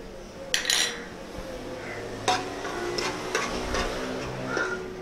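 A spoon stirs ginger garlic paste frying in oil in a pot while cooking chicken nihari, giving a few scraping clinks and soft scrapes over a low, steady sizzle, close by.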